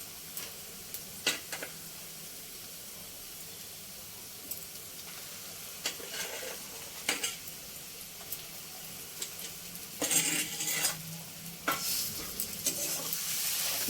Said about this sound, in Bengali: দিয়ে পেঁয়াজের সাথে ভালো করে মিশিয়ে নেব।